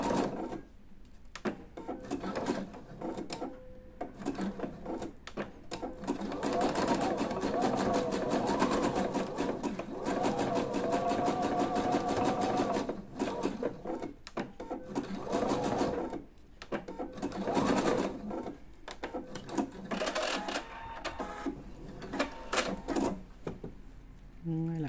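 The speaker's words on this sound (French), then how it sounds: "venir la coudre à nouveau au point zigzag" A domestic sewing machine stitches zigzag over a seam allowance on a camisole, running in several bursts of fast rhythmic clatter separated by short pauses, with someone speaking at times.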